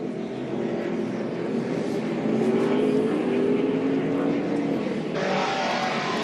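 NASCAR trucks racing at the 2014 Kroger 250, heard from a camera mounted on top of a truck: a steady, loud engine roar with rising revving tones and constant wind rush, shifting sharply partway through.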